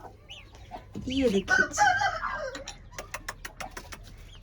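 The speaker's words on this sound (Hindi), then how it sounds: "ये देखें जी हमारे मुर्गी के बच्चे" A hen with her chicks, kept in a covered enclosure in cold weather: close soft clucks and a brief crow-like call, then a string of rapid high peeps from the chicks, with someone speaking briefly.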